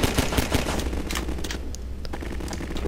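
Pistol gunfire in Half-Life 2: a rapid run of sharp, loud shots in quick succession at the start, followed by scattered fainter shots and echoing tails over a continuous game background, with no talking.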